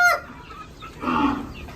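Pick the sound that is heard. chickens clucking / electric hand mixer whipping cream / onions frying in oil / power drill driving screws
chickens clucking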